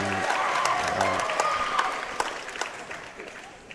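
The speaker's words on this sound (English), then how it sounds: "Crowd enjoying that one." A crowd at a speedcubing championship applauds in a burst that fades to scattered claps, with a commentator talking over it.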